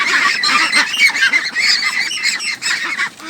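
A flock of Pekin ducks honks and quacks continuously and loudly, many overlapping calls close by with no talking.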